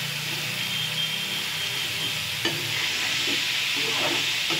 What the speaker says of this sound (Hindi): ताकि साथ में फ्राई हो जाए, टमाटर भी गल जाएंगे और मटर भी फ्राई हो जाएगा।